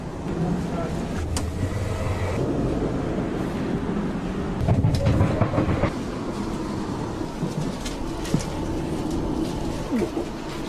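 A train in a video game rumbles and clatters steadily throughout, with some louder rattling partway through, birdlike chirps, and voices faintly in the background.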